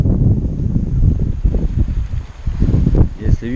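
Strong offshore wind during a seaside storm buffets the microphone in a loud, steady low rumble, with a voice speaking over it.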